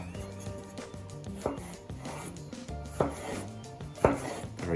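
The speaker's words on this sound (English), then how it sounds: "So cut these nice slices, and then these slices, if it helps you can sort of stack them a little bit." A knife slices and dices aubergine on a chopping board, giving three sharp, spaced thuds against the board, nearby and moderately loud, over steady background music with no talking.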